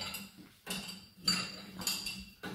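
Plates and cutlery clinking as a dishwasher is loaded, with several sharp clattering bursts in an uneven rhythm, close by and fairly quiet, and no talking.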